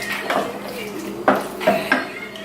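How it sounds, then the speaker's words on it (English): A utensil stirs bow tie pasta through coconut cream sauce in a pan, giving wet squelching swirls punctuated by a few sharp scrapes and clinks against the metal, close and clear with no talking. "So just mix it up so all the bow tie pasta is coated"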